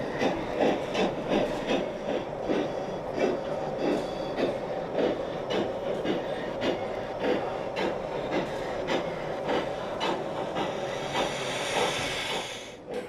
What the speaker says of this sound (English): Now it's high time we saw some steam engines in action.